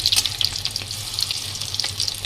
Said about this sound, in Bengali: আর একদম মিডিয়াম ফ্লেমে আমি বড়াগুলো ভাজছি